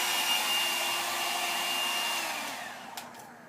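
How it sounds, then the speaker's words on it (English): Hair dryer blowing steadily close by while hair is blown out smooth, a continuous airy roar that tapers off near the end. "Now that I've finished blowing out my hair"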